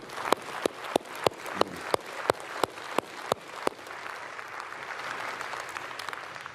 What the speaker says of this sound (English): I'd just love to ask you for one more round of applause for both Tim and Nicholas.